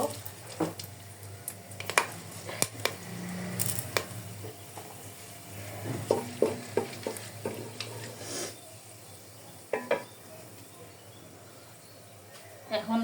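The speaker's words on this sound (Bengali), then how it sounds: "আমার তেলটা গরম হয়ে গিয়েছে এখন দিয়ে দিব আমি দুই তিন দুই তিন টুকরো তেজপাতা দুই তিন টুকরো দারচিনি তিন টুকরো এলাচ এবং দুই তিন টুকরো লবঙ্গ" Bay leaf, cinnamon, cardamom and cloves crackle in hot oil, a quiet, uneven sizzle with intermittent pops, utensil clatter and stirring scrapes close by.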